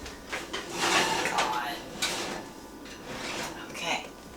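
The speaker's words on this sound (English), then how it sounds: "Now I put it in the oven." A whole turkey being pushed into a home oven, with the oven door and rack clattering and sliding in a few scrapes and knocks while someone talks over it.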